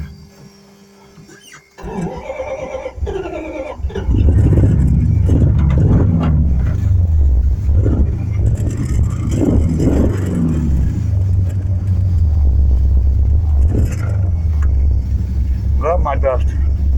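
A Plymouth Duster cranks with a short whirring starter before the engine catches and settles into a loud, deep idle rumble that runs steadily to the end, with a voice talking briefly near the start.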